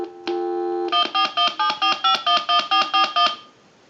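A Harris TS22LO lineman's test telephone gives a dial tone, then a rapid, even run of about a dozen short touch-tone beeps, loud and clear, followed by a faint hum.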